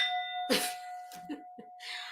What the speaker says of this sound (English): I may not have a gong, but I do have a song bowl.